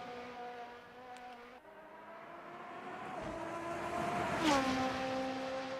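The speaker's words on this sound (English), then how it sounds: "Cars sound great." Super Formula racing cars at Suzuka in a racing video game hold a steady, high engine whine that slowly shifts pitch and grows louder toward the end, with no talk over it.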